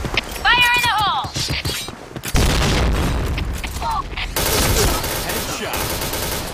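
Gameplay audio from the shooter Point Blank, with a deep booming grenade blast amid dense gunfire and chaotic battle effects, loud and close, while voices are heard over the noise.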